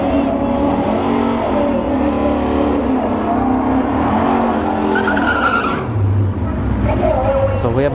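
Drag strip launch as a Mustang lines up against an Audi R8 at a street drag racing event: loud roaring engines and tire noise swell together, with a rising rev near the end, and the crowd and track ambience running underneath.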